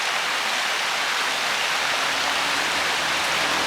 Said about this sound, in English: with the creek running through